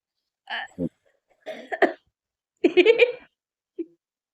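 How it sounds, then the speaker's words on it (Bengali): Several short, separate coughs come in bursts with pauses between them, close and fairly loud, ending with one small cough. "খক খক কাশি"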